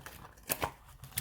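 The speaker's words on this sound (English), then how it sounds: "that's a really bad shuffle." A few quick riffling bursts of tarot cards being shuffled, close and fairly quiet, uneven and brief.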